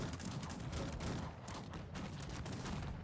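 Dense, continuous barrage of heavy booms and rapid blasts from howitzers in the strategy game Cossacks 3, loud and unbroken, like a sustained artillery bombardment.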